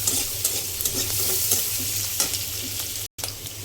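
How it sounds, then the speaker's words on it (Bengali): Onions fry in a pan, reddening in hot oil with a few nigella seeds, a steady hiss of sizzling broken by scraping stirs and a low hum beneath, with one brief dropout near the end. "পেঁয়াজটাকে তো আমি লাল লাল করে ভেজে নিচ্ছি।"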